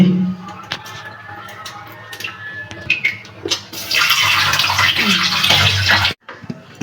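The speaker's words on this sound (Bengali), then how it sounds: "আমাদের ইলিশ মাছটা ধুয়ে নিচ্ছি।" Hilsa fish are washed under a running tap, with a steady rush of water that grows louder and fuller midway, mixed with handling clatter, then stops abruptly near the end.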